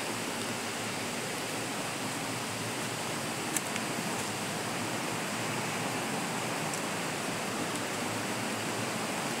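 Steady broadband rush of river water flowing continuously at a riverside swimming spot, even and unbroken throughout with no voices, a faint click near the middle.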